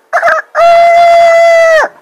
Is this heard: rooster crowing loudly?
yes